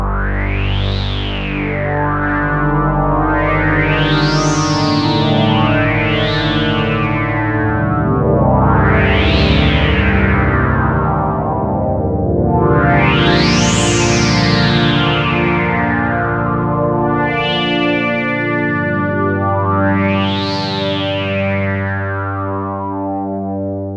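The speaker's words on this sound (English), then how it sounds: "So it indeed has that Overheim sort of like of sound, the glassy filter type sound." A MicroMonsta synth on its Oberheim preset plays sustained chords while a resonant filter repeatedly sweeps up and down, giving a glassy, swooping tone with a chorus-like shimmer throughout.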